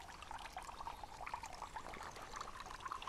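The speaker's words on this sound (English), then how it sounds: "Just collects the water, collects it into this little green tray, then we use another guttering to transfer it into the bath." Rainwater trickling from guttering into a small green plastic tray at a camp, a faint, continuous pouring dribble with light splashing throughout.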